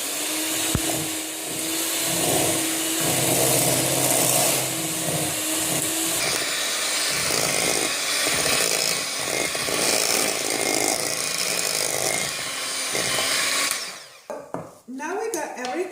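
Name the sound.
hand mixer mixing keto cereal ingredients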